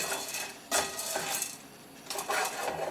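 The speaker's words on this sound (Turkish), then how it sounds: "Ve karıştırıyoruz. İyice karıştırıyoruz." Corn kernels are stirred in a pot with a spoon for sauced popcorn, producing quiet scraping and rattling with a couple of louder clinking bursts against the metal.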